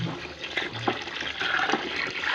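Two liters of water poured into a homemade fabric conditioner mix, a steady liquid rush and splash lasting throughout, fairly close and alone.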